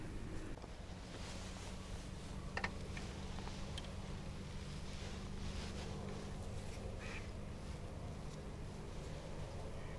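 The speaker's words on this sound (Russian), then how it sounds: "О утках там движуха. Штук 10 собралось. И возле камышей кантуются." A group of about ten wild ducks near reeds on a riverbank, quacking in scattered faint calls over steady wind and outdoor hiss, with no talk.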